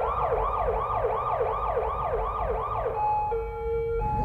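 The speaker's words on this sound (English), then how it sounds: "I couldn't really see all that much with the lights and sirens" A loud, close ambulance siren wails in a rapid repeating yelp, then shifts to a steady tone near the end, over road rumble.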